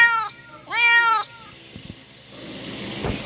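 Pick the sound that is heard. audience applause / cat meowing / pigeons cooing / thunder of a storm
cat meowing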